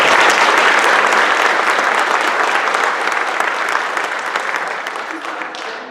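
Loud, sustained applause from a large audience at a graduation ceremony, dense steady clapping that slowly thins and fades toward the end.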